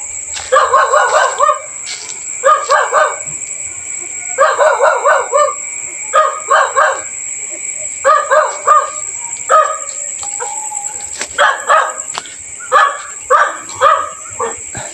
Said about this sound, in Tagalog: Ayun guys, aso lang pala.